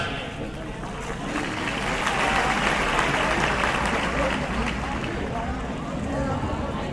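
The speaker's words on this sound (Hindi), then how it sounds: "केवल तालियां" Clapping from an audience at a school farewell ceremony, a loud continuous roar of many hands, broad and steady from start to finish, with crowd murmur blended in.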